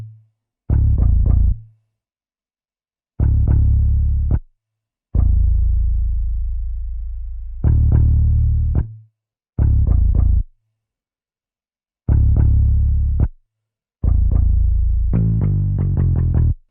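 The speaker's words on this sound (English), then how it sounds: "This bass is also one shot come from the archive kit. I even didn't add anything, just a basic EQ, so this bass sound like this." A one-shot bass sample from a producer's kit, treated only with basic EQ, plays short, punchy low notes in a syncopated rhythm. Gaps of silence separate the notes, and a quicker run of notes comes at the end.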